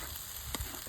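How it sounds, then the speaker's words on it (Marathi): Masala being stirred and roasted in a kadai for a dry village-style chicken sukka, giving a short, soft sizzle with a brief scrape of the spoon, close by and without any talk. "आता मसाला थोडा हलवून घेऊया नाहीतर खाली लागायची शक्यता जास्त आहे."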